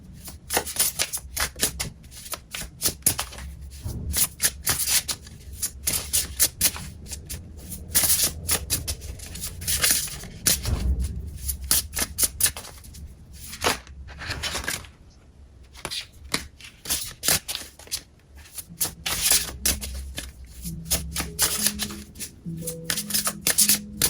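A deck of cards shuffled by hand for a psychic reading, with repeated riffling and shuffling bursts and crisp card flicks going on almost without a break for the whole stretch, close and fairly loud, with barely any talk.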